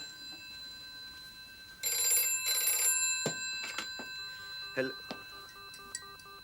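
Old-style telephone bell ringing indoors in a TV comedy drama: two loud, clanging rings in quick succession, followed by softer bumps and household noise.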